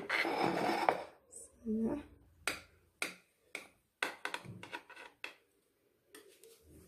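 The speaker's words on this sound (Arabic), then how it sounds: "انا غادي نقطع لكم تشوفوا كيفاش تجي الكيكه" A knife cuts through a chocolate cake in a series of short, crisp scraping strokes and taps, close and fairly quiet, with spaced pauses and brief talk at the start.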